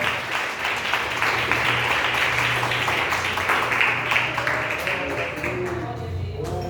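A church congregation claps along in praise during a worship service, a steady run of applause holding throughout with a low sustained hum or music beneath it.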